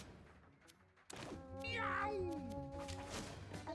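Cartoonish cat meows from the video game Mewgenics, one drawn-out rising and falling call after a soft thump, up close over a quiet background hum.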